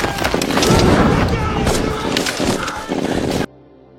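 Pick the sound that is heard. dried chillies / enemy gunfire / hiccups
enemy gunfire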